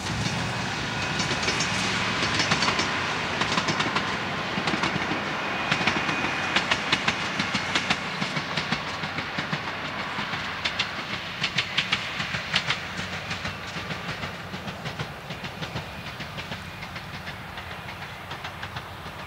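A British Railways train on the East Suffolk line near Woodbridge rumbles steadily along the tracks, wheels clattering over rail joints in a continuous, fairly loud run with no voices.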